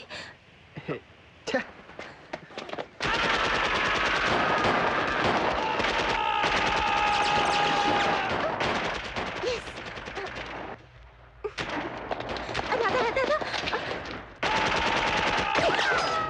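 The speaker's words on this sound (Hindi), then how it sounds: "AK-47 है?" Sustained AK-47 machine gun fire in an action thriller film scene, long dense bursts of rapid shots broken by brief pauses, loud and continuous with speech and score mixed beneath.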